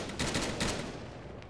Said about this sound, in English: Those are mortars.